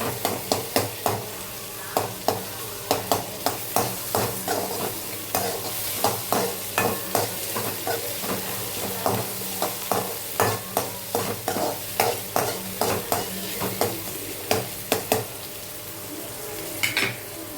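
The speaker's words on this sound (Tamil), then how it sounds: "தக்காளி வெங்காயமும் நல்லா மேஷ் ஆகி வரணும், அது வரைக்கும் நல்லா வதக்குங்க" Tomato and onion sautéing in a pan for sambar, with a soft continuous sizzle under regular scraping stirs of a spoon against the pan, repeating in a steady rhythm from start to finish.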